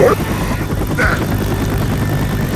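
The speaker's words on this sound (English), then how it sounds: "Helicopter, helicopter." Loud continuous video-game helicopter rotor drone with a buzzing engine whine, filling the whole clip, with brief electronic game sounds over it.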